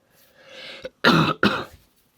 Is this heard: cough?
yes